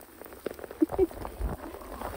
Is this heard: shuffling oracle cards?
no